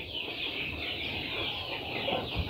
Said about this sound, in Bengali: এখানে যে মুরগির বাচ্চাগুলো দেখতেছেন